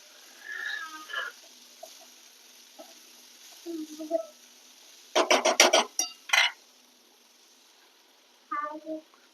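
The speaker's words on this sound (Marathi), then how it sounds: "आता इथं उरलेले मसाले ते आपण इथं वरून टाकतोय मसाले व्यवस्थित मिक्स करून घेऊया" A spoon stirs spices into a green-masala sprouted moth bean curry in a pan: soft, scattered scrapes, then a burst of quick rasping strokes midway and a few more near the end, with no talking.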